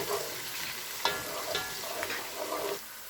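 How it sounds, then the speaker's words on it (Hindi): Chopped onion fries in about a cup of hot cooking oil for a mutton yakhni pulao, giving a quiet, steady sizzle broken by a few soft stirring scrapes. "2 मिनट तक प्याज को फ्राई करेंगे।"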